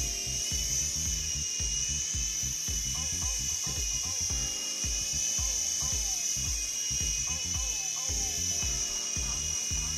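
Mini toy helicopter, a Protocol Aviator, hovering with a constant high-pitched rotor whine throughout, while someone talks over it in Portuguese at close range.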